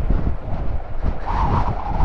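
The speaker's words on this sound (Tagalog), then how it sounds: "Lakas ng hangin dito." Strong wind at a lakeside campsite on Lake Tabeo buffets the microphone in a loud, continuous roar with gusty surges, no voices present.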